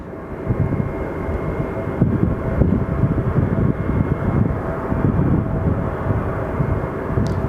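Delta airliner landing at Phoenix Sky Harbor Airport, a loud steady roar of jet engines with a rumbling low end that holds without letup and no talking over it.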